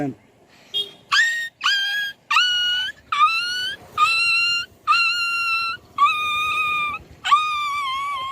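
A man imitates a dog with his voice, giving a string of about seven loud, drawn-out yelping barks at a steady rhythm, each call sharp at the start and then trailing, close to the microphone.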